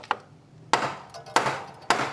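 Sharp metallic hammer blows strike a bolt on a new Honda PCX scooter, four distinct close hits spaced about half a second apart, each followed by a brief ring.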